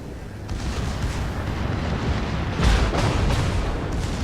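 Warship secondary guns trade fire in World of Warships, a steady rumble of overlapping booms and blasts with a heavier surge partway through, loud and continuous.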